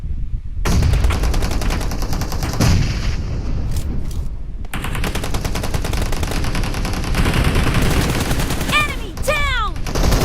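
Gunfire in BGMI (Battlegrounds Mobile India), dense rapid automatic bursts that run almost continuously and sound close and loud, with a short gap partway through and a few sharp whistling tones near the end.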